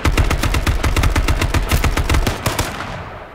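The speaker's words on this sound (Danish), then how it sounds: "Der blev skudt" Rapid bursts of automatic gunfire from the video game H1Z1, loud and close, firing in a steady rattling rhythm for about two and a half seconds before tailing off into a fading echo.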